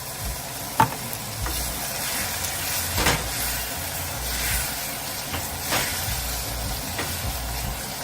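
Breadfruit with seasoning and black pepper frying in a pan, a steady close sizzle and hiss with occasional stirring scrapes and a sharp clink near the start, no voices.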